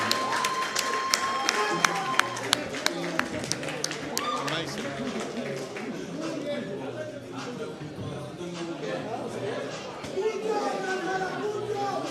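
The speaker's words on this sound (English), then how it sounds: "big round of applause to Big these round of two a fight. girls." Crowd applause and cheering in a large venue after a fight, steady clapping and chatter under a loud announcer's voice throughout.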